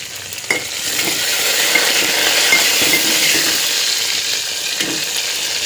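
Garlic sizzles in a hot pan while being stirred, a close, steady frying hiss broken by a few utensil clinks and scrapes.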